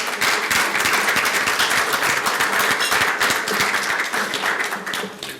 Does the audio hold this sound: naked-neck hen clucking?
no